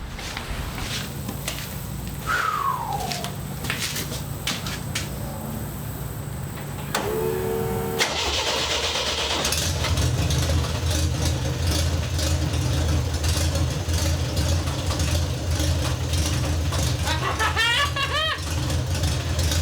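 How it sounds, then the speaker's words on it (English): An old vehicle, sitting unused for 27 years, runs after a startup, its engine idling with a steady low rumble and loud broadband noise through most of the clip, with a short whine and shifting mechanical noises. "So we'll idle it up. We'll even throw it in gear and see if we got the wheels to spin as well."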